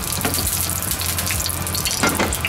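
Olive oil hitting a very hot pan, giving a steady, loud hiss and crackle like running water that holds throughout without a break.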